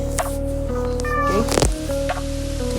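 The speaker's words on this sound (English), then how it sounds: "that is a cat." A cat meows several times, clear and fairly close, over a steady background hum with faint clatter.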